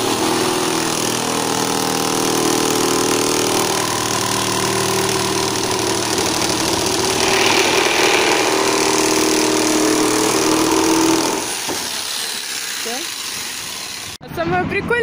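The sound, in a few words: saw cutting a whitewashed oak photo backdrop panel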